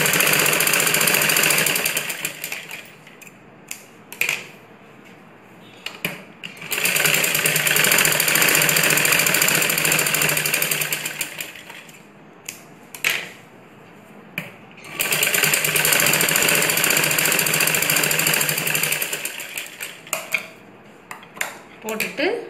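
A sewing machine runs in three sustained bursts while stitching a blouse sleeve, a steady rapid mechanical rattle with short pauses and clicks of fabric handling between runs, close and fairly loud, with no talking.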